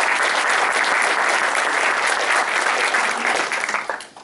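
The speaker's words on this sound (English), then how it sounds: "Let's give her a round of applause." Sustained dense applause from an audience at a university signing ceremony, loud and even throughout before tapering off at the end.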